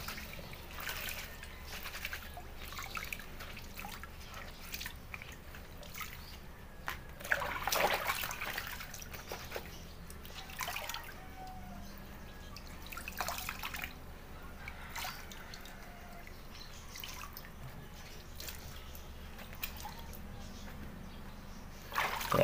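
Water runs and drips while a dirty motorcycle helmet is rinsed a second time, a steady close trickle and splash with brief louder gushes, no talking.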